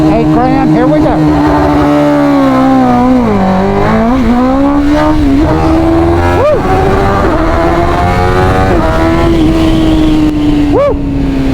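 A 2023 BMW M1000R motorcycle engine revs hard on launch control, holding a loud, close, sustained high-rpm wail with pitch sweeps and sharp upshift blips as it pulls away.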